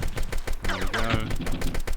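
A video game's multi-guns fire rapid bursts in a dense, loud, continuous stream, with laser-like tonal sweeps and a player with infinite ammo shooting at enemies.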